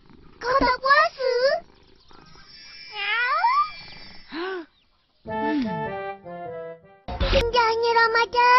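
Cartoon cat in an animated Ramadan episode, with meow-like rising and falling cries between animated voices talking, close and fairly loud.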